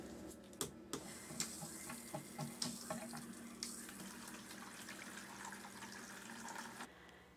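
Fresh water pouring into a medicator bucket holding ProxyClean for a chicken flock, making a steady, close splashing stream with a few sharp clicks and knocks near the start.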